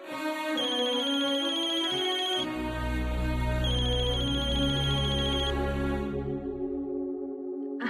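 A phone rings during an outgoing call in a domestic TV drama scene, a repeating electronic ringback tune in two bursts with a short gap between them, clear and close, with no voices.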